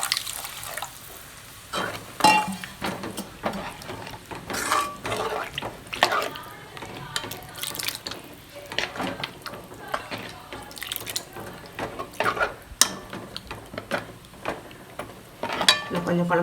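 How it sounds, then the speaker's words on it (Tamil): Water is poured into an egg curry gravy in a pan, with splashing and dripping bursts and clinks of utensils close by, while a voice speaks intermittently over the kitchen sounds. "நம்மளுக்கு எவ்வளோ குழம்பு தேவையோ அந்த அளவுக்கு தண்ணி ஊற்றிக்கலாம்."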